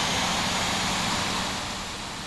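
Airliner taxiing toward the runway at Montréal-Pierre Elliott Trudeau in the Infinite Flight simulator game. A steady, dense jet engine roar fills the clip and eases slightly toward the end.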